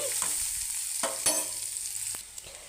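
Ingredients frying in a pan while being making a rasam with coconut milk: a steady close sizzle with occasional scraping stir clicks, no voices.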